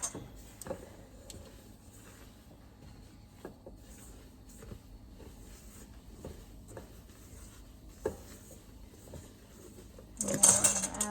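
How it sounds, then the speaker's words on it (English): Macaron batter being folded by hand in a bowl with about a dozen strokes, giving soft, quiet, evenly spaced scrapes with no talking and a brief louder clatter at the end. "we're going to mix half at a time in here and minimally stir it in"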